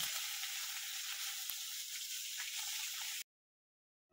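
Food frying in a pot on a gas stove, a steady hissing sizzle, close and moderately loud for about three seconds before cutting off abruptly to silence, with no voices.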